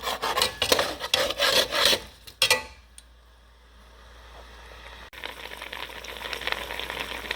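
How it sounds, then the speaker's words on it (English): A spoon rasps hard against the bottom of a pot-roast pan, scraping loose stuck browned bits in a burst of rough strokes, then gives way to a soft, steady simmering sizzle as the liquid deglazes. "Deglazing the pan right now."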